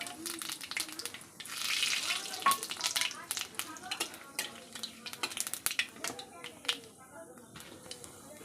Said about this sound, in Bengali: তেল গরম হয়ে গেছে এখন আমি দিলাম দুটো তেজপাতা আর এখানে নিয়েছি কালো জিরা আর সাদো সাদা জিরা